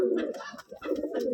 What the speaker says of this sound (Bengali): এই যে এখানে একটা কবুতর দেখুন